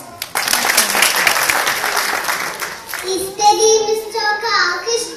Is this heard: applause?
yes